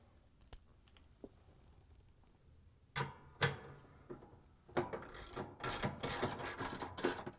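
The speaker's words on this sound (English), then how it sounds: "Locate the 4 bolts that hold the motor bracket and using the 13mm socket wrench," 13mm socket wrench ratcheting out bolts from a motor bracket: a few faint isolated clicks, then a louder stretch of rapid ratchet clicking and mechanical rattling, close by.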